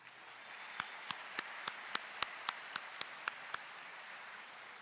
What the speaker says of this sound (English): Let's give a round of applause to our faculties.